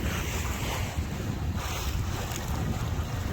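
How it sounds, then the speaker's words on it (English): A sailboat moving through strong wind, with loud, constant wind buffeting and rushing water and waves heard close by, and no voices. "We're sailing along here."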